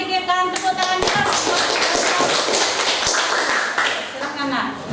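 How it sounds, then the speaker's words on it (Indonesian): Classroom students applauding a group that has just finished presenting its discussion results, a dense burst of clapping filling most of the moment and fading near the end, with a teacher's voice audible around it. "Mari kita berikan tepuk tangan keras."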